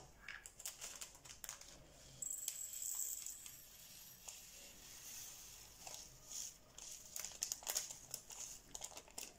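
A small plastic sachet of black colour is cut open with scissors: close, soft crinkling and rustling of thin plastic, with a few brief sharper snips and handling noises.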